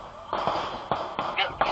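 Sharp gunfire cracks at an outdoor park barbecue, five or six abrupt bursts spaced irregularly over a second and a half, loud against a noisy crowd background.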